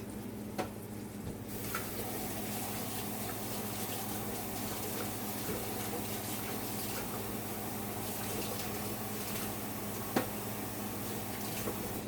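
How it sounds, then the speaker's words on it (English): A kitchen tap runs in a steady, fairly quiet gush as hands are washed, with a faint click or two partway through. "Let me just wash my hands."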